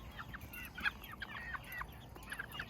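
Chickens cluck and chatter as they leave a chicken tractor, a cluster of soft, close bird calls in uneven bursts over quiet outdoor background.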